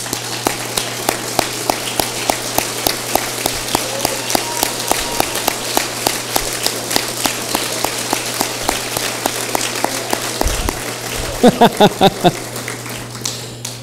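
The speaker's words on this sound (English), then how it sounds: "Let's give them a round of applause." An audience at a Cowlitz County, Washington political dinner applauds standing veterans, sharp individual claps ringing out in a fairly close, rhythmic patter that runs on with a brief pause and a few loud claps near the end.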